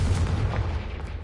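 A Confringo fire spell from the Hogwarts Legacy video game lands as a dense, rumbling burst with a heavy low boom, loud and close, tailing off over about a second.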